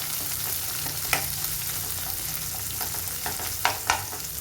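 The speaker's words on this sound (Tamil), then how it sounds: "நல்லா பொன்னிறமாக இந்த வெங்காயம் வதங்குற வரைக்கும் வதக்கலாம்" Onions, cumin, chana dal and curry leaves sauté in a pan for a cluster beans sabji, giving a steady close sizzle broken by a few sharp clacks of a stirring spoon, with no talking.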